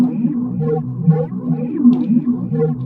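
Synthesized sound designed on an Octatrack sampler: a low, warbling, moaning tone that swells and dips in slow repeating waves, somewhat like a whale call, with faint higher glints.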